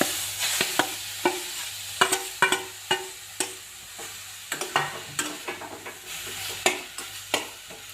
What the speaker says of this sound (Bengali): ভালোভাবে নেড়ে চেড়ে গাজরটা একটু ভেজে নেব।